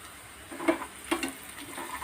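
Asafoetida tempering for dal or rasam crackles in hot oil, with two brief sizzling bursts rising over a steady low frying hiss, close and fairly soft.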